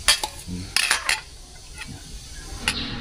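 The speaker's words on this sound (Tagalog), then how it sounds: "Haluan natin siya ng suka, yung mga ganyan." Clinks of a utensil against a bowl, a few sharp taps and scraping, while raw oysters are mixed with vinegar and onion for kinilaw; faint low background rumble.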